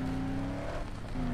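A car engine drones steadily in the Dead Island video game while the vehicle rams other cars, with a sustained tonal hum and a brief tire-squeal break near the middle, loud and continuous.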